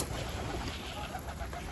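Pigeons coo softly at a Turkish bird loft, low murmuring calls under a steady hiss of outdoor background noise, with no voices.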